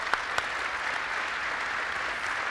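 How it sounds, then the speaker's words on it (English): An audience at a civil society and media gathering applauds in a steady wash of clapping that holds evenly throughout, with a couple of sharper claps near the start. "A big round of applause for Fatima Hassan."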